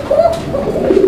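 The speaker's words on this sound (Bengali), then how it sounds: "দর্শক আমরা এই মুহূর্তে দেখতে পাচ্ছি এখানে দুর্দান্ত আরো এক জোড়া কবুতর" A pair of fancy pigeons cooing close by, a few soft, warbling coos in quick succession.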